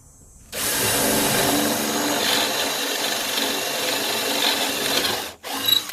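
A power drill bores a pilot hole through a countertop, a loud, close, continuous whirring grind lasting about five seconds before briefly stopping and restarting.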